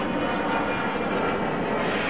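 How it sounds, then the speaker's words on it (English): An airplane passes over a garden, a steady broad engine roar that holds loud and even throughout with no talk. "I'm trying to let the plane go past."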